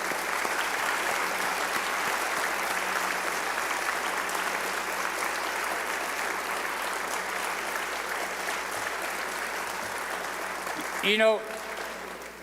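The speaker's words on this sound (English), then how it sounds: "How about a round of applause?" A school auditorium audience at a high school Veterans Day ceremony gives sustained, even applause for standing veterans, a dense wash of clapping that holds steady before a brief voice cuts in near the end.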